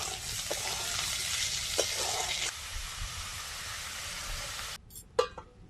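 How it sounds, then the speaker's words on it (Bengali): Potato pieces frying in a pan with salt and turmeric, a steady hiss and sizzle that runs continuously, then drops away near the end leaving a few scraping clatters. "এবার আলুটাকে একটু ভাজবো।"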